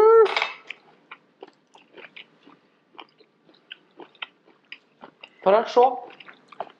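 Crisp crunching bites and chewing of a raw apple and carrot salad, a series of short close crunches spread across the clip, with brief speech at the start and a louder spoken remark near the end.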